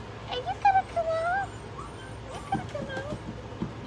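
Puppies whimper in a series of high, wavering whines and short yips, close by, with a soft human voice in the background.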